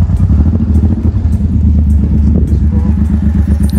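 A Suzuki Boulevard 1500cc heavy cruiser motorcycle rides past near Wasaga Beach, Canada. Its loud, deep, throbbing engine runs steadily throughout and is close to the listener.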